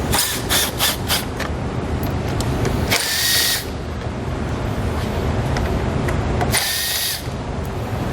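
A power tool driving a T20 Torx bit whirs as it removes bolts from a 2012 Chevrolet Traverse during a base plate installation: a cluster of short bursts at first, then two longer, separate runs, close and loud.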